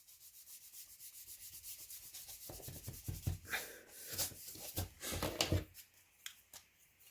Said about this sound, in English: I don't know why I rubbed all that out